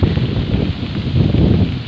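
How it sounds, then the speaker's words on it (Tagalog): Strong wind on a bridge in Taiping buffets the microphone in low, rumbling gusts that roar continuously without pause. "grabe yun na naman yung hangin"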